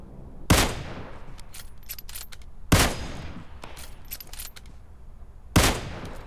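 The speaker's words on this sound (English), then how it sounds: "So we got automatic fire up there, and that is bad." Bursts of automatic gunfire in the mobile battle-royale game PUBG Mobile, three loud sharp volleys spaced a few seconds apart with ringing decays and scattered fainter shots between them.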